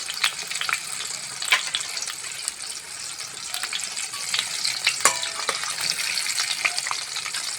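Green chillies and garlic fry lightly in hot oil in a pan, giving a steady close sizzle broken by sharp crackles and spits, with occasional stirring scrapes.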